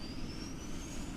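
Jet aircraft engine starting up, a steady loud whooshing roar with a thin whine slowly rising in pitch, heard alone and without speech.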